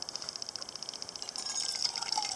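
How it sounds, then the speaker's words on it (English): Tea streams from a pot into a cup close by, a soft, continuous trickle with a faint rapid pulsing that swells slightly toward the end, quiet and without any voices. "I'm going to pour myself a cup of tea"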